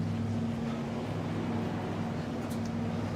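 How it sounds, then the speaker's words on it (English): A boat engine idles with a steady, low droning hum and no break in the rumble for the whole few seconds. "Sorry, mate, if you could just turn the engine off, that would be great."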